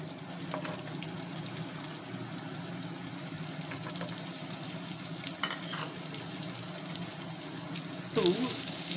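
Chopped celery sautéing in a little rendered chicken fat in a pan, steady low frying hiss with occasional stirring scrapes, ending in a louder clatter near the close.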